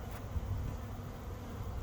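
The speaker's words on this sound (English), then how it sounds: "we've got orientation flights going on. With this many bees doing orientation, I'd say I need to add another box to this colony." Honeybees on afternoon orientation flights around a hive, a faint, steady buzzing hum with no voices.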